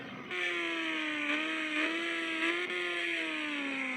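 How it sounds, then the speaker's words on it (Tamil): A vehicle engine revs steadily and loudly up close, its tone rising and dipping slightly across a few seconds with no one talking. "ஓகே முறுக்குது பாரு வண்டி"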